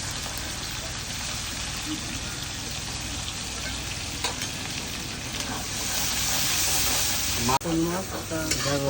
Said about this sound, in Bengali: পেঁয়াজ কুচি চলে গেল হালকা এবার কিন্তু ভাজা ভাজা করা হচ্ছে